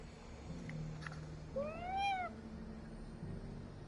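A cat gives one clear, rising-then-falling meow at moderate distance, preceded by a couple of faint chirps against a quiet indoor background.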